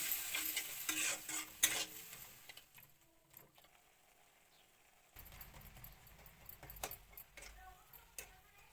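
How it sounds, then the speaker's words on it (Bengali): Meat fried with turmeric, chili powder and a splash of water, stirred and scraped in a pan, with sharp spatula scrapes and a soft sizzle, busier in the opening and closing seconds around a quieter middle. "হলুদ গুঁড়া সামান্য একটু জল দিয়া মাংসটা ভালো করে ভাজা ভাজা করতে লাগবে"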